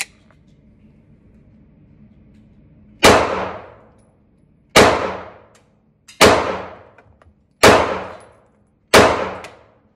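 FMK 9mm pistol, a low-cost California-made handgun, firing Blazer ammunition outdoors: five sharp, loud shots spaced one to two seconds apart, each with a short decaying tail, after a quiet start.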